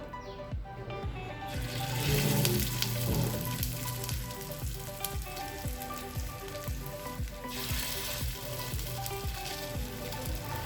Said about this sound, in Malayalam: ഇനി ഇതിലേക്ക് നമുക്ക് ഓരോരോ മീൻ കഷ്ണങ്ങളായി ഇട്ട് കൊടുക്കാം.